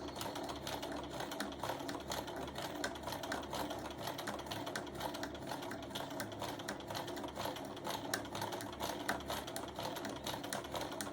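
A sewing machine stitching seams with black thread on a small round mug rug, a steady fast mechanical clatter running continuously at moderate volume.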